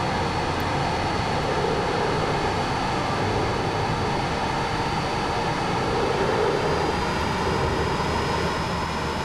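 A jet plane in the VR flight game Dawn of Jets losing control and going down, heard as a steady, loud engine roar with a thin high whine running through, unbroken for the whole stretch with no impact.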